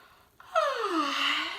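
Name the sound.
reader imitating a yawn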